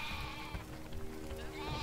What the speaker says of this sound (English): Why are there so many sheep?